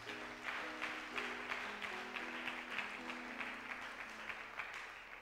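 Church congregation applauding during a sermon, steady sustained clapping with a low musical drone underneath, moderately distant and even throughout.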